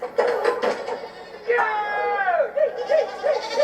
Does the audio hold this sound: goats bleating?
yes